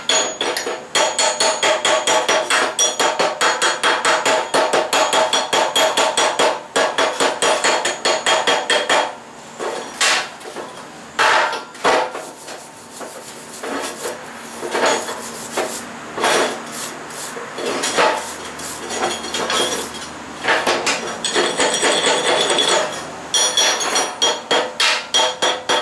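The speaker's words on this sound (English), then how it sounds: "I always take the chisel in, try to scrape as much of those little slag balls off" Steel chisel scraping and chipping welding slag balls off a metal welding table, a dense run of rapid scraping and tapping strokes, loud and close, with a few brief pauses partway through and no talk.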